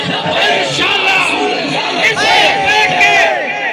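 A large crowd at a Tehreek-e-Labbaik rally in Sibi district chants a religious slogan, the many voices shouting together loudly and close in rising, rhythmic bursts with no pauses.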